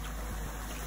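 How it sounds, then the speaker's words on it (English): Lake Superior waves washing on a rocky agate shore, a steady broadband rush close to the microphone with no voices. "I am so sorry for the sound of the waves"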